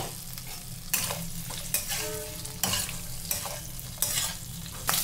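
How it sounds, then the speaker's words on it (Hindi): Cut potatoes sizzle and fry in a pan for a dahi aloo curry, with steady crackling hiss broken by regular stirring scrapes about once a second, close up with no talk. "अब इसमें हम अपने ये कटे हुए आलू को डालेंगे।"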